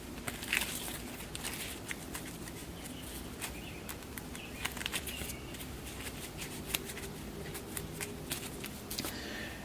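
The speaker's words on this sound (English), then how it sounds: "So we'll give this a quick shuffle." A deck of game cards for a tabletop horror board game is shuffled by hand, a run of quick papery riffles and flicks in irregular bursts, close and fairly quiet, with no talk.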